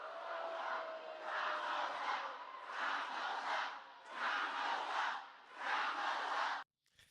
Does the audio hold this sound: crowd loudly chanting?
yes